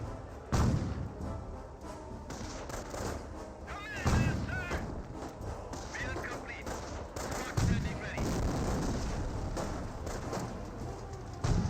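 Gunfire and artillery from Company of Heroes battle play, with sharp shots and heavy booms scattered across a busy game soundscape while someone talks over it.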